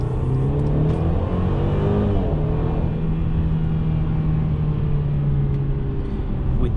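A 2021 Mercedes-Benz C300 C-Class with a 9-speed automatic accelerates, its engine a steady loud rumble and rising drone from inside the cabin, with a shift partway through.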